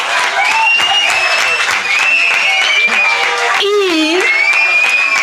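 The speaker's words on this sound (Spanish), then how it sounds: "Así que un aplauso para" Loud, sustained applause with cheering from a crowd at a twentieth-anniversary musical stage show of Don Quixote, full and continuous, with a few voices shouting and whooping over the clapping.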